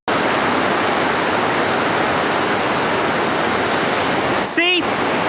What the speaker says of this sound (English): Not exactly peaceful with the sound of the river